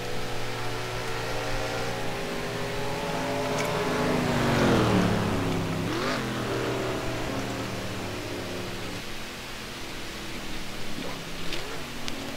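Race cars on the track at Michigan running behind the pace car, engines droning steadily with gear shifts and rising and falling pitch as they pass, carried under a broad roar of noise.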